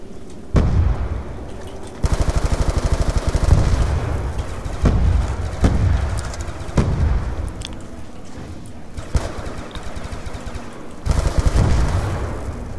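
A gun in Black Ops 2 Zombies on the Town map fires in rapid automatic bursts, loud and close, broken by pauses and a few heavier single shots.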